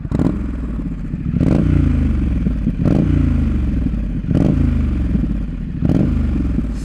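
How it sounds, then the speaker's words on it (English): Harley-Davidson 150 hp adventure motorcycle exhaust revving up four times in a row, each loud rising blip dropping back to a throaty idle, close up. "Let you guys hear this exhaust"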